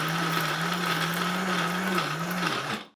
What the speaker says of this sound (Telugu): మిక్సీ పట్టేసి చూపిస్తాను.